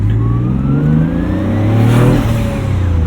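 A turbocharged 1995 BMW 325i accelerates hard from inside the cabin. The engine note rises steadily and a turbo spooling whine climbs over it, loud and close throughout.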